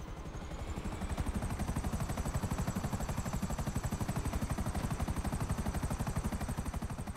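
A Buzzard helicopter in GTA Online flies with a fast, steady rotor chop, loud and continuous, with a thin high whine on top and no voices.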